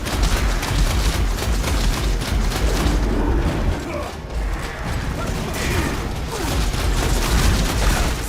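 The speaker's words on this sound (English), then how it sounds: "I'll stick with the repeater just for now, just to have the higher rate of fire." Repeater weapon firing in the video game Nosgoth, a dense, continuous rapid-fire clatter blended with mechanical game effects, loud and constant throughout with no pause.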